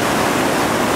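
Whitewater at the second drop of Initiation Rapid on the Gauley River at 650 cfs, a loud, dense, continuous rushing roar of churning water, close and steady, with no voices.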